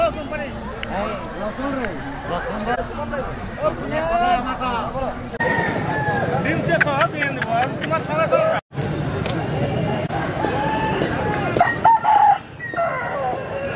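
Roosters crowing and clucking amid the hubbub of a busy forest village market where fighter chickens of a local breed are sold, with repeated crows rising over steady crowd chatter and nearby talk.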